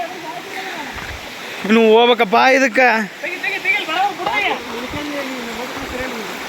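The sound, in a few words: Kudlu Theertha waterfall rushing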